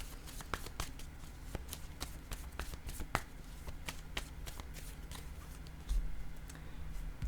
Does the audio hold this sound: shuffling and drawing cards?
yes